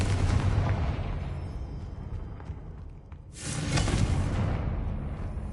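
Fiery Confringo spell explosion in Hogwarts Legacy, played on PS5 Pro: a sudden loud broadband burst midway through a rumbling low background, sustaining and slowly fading, with no talk.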